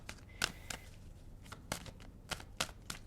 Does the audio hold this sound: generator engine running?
no